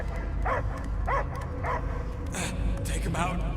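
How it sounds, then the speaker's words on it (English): A dog gives several short barks and yips at an even pace, mixed with a background score and busy sound effects in an action scene. "I hear only barking"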